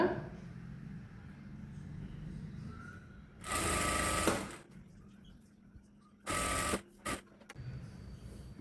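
Sewing machine stitching the hem of a saree in two bursts, one long run of about a second and a shorter one followed by a quick stab, close and loud against a quiet room hum.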